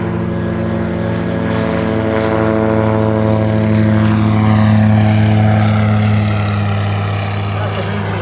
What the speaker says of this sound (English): That's the reason we watch that plane take off like that.